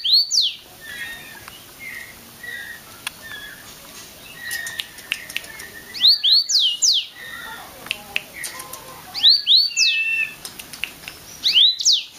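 An imported Mozambique canary sings in short bright bursts of chirps and trills, fairly close, repeating at intervals over a quiet background with faint ambient noise.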